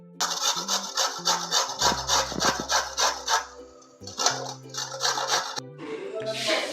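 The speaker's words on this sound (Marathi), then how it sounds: "पिलिंग करून झाल्यानंतर किसणीवर आपण त्याला किसून घेऊया" Peeled carrots are scraped on a kitchen grater for carrot halwa, a steady run of rasping strokes in a regular back-and-forth rhythm, close and fairly loud, with a short pause midway and light background music underneath.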